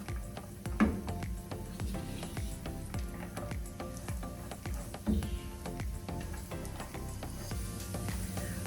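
Carrots frying in a little oil, a faint steady crackle and sizzle with many small pops and a couple of slightly louder spatters, quiet and continuous throughout.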